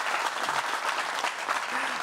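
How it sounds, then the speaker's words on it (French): An audience claps steadily and fairly loudly for an expert guest at a talk show taping, a dense, even wash of many hands with no voices standing out. "Merci d'applaudir encore très fort Madame Pon, notre expert."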